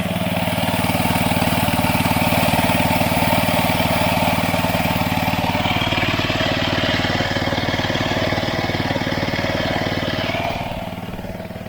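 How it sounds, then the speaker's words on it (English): A Honda GX160 engine runs slowly, driving a home-made 12V DC generator. It makes a loud, steady mechanical drone with no talk, easing off slightly near the end. "but the engine's running quite slow, so let's turn it up."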